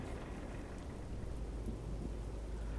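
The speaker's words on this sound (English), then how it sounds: "Oh, it's nice hearing that snow." Snow falling on a parked truck at a depot in Euro Truck Simulator 2 on a -4 degree winter day, a steady soft hiss like light rain with a low rumble underneath, unbroken throughout.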